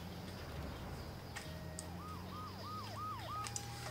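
An ambulance siren wails in a rising-and-falling yelp pattern through a street scene in the GTA São Paulo video game, fairly faint under a steady low engine drone, with no talking.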